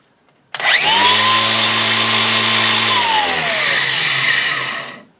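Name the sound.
angle grinder running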